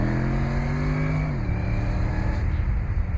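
A Mercedes-McLaren SLR accelerates on a public road, its engine note rising and then dropping as it shifts gear, a loud, close, continuous drone with no voices.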